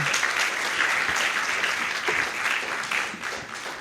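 Audience at a book review event breaks into steady, dense applause, many hands clapping continuously at moderate loudness throughout.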